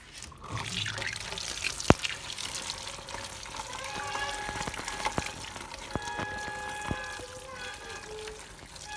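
Water pouring and splashing from a household air cooler, a steady close trickle with scattered drips and clinks, with faint household background.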